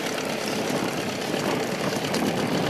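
A boat's outboard motor runs steadily on Lake Ladoga during a zander fishing trip, a loud, even, close drone with no talking.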